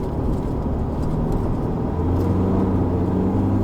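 A 2021 Isuzu D-Max X-Terrain pickup engine after a downshift to second gear on a mountain road at Genting: a steady, loud low drone from inside the cabin, rising slightly in pitch as it pulls.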